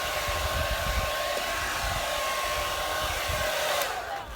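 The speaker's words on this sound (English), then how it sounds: "we're using a hairdryer for this example" A hair dryer blows steadily at close range to dry primer on a car wheel, a continuous loud whooshing hum that fades slightly at the very end.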